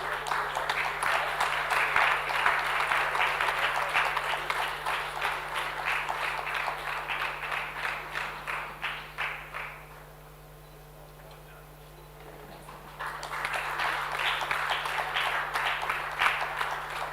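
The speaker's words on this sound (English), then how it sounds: "Can we have a round of applause, everyone, please?" Audience applause at a dairy and UN SDGs panel session, dense clapping that runs for about ten seconds, drops to a near-silent pause, then swells again for the final few seconds.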